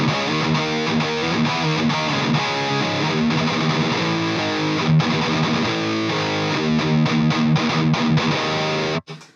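Electric guitar played through an overdrive pedal into a JCM 800-style amp at high gain, loud, dense distorted chords and riffs for several seconds before cutting off abruptly.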